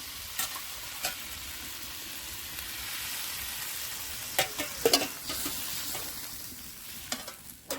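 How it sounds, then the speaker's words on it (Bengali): Paneer and potato curry in a pan sizzles and hisses steadily as water is poured in, with a few sharper clinks and stirring knocks, close by with no talk. "এবার দিয়ে দেবো আমি জল।"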